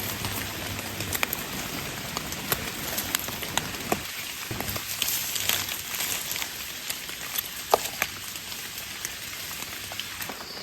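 Steady rain falls on a forest floor during mushroom picking in Thailand: a continuous close patter of drops on leaves and surfaces, with scattered louder individual drip taps throughout.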